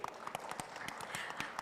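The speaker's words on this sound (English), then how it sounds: "We give applause again to Ibu Suzy." Brief, light audience applause at an eco-tourism panel discussion, scattered sharp claps at moderate distance, thin and short-lived.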